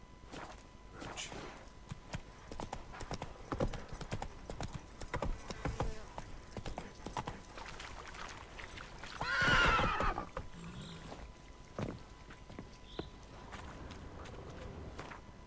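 In The Witcher 3 video game, the horse Roach trots with steady, rhythmic clip-clop hoofbeats and gives one loud neigh partway through, heard close by over faint background ambience.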